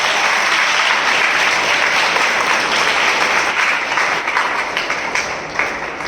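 An audience at a spiritual passion assembly applauds loudly, a dense, steady wash of clapping that holds for several seconds.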